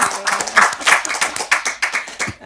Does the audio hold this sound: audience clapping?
yes